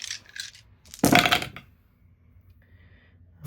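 Eight dice tumble across a tabletop during a Star Wars Shatterpoint game, a sharp clattering burst of hard rattles lasting about half a second, with fainter handling sounds before and after.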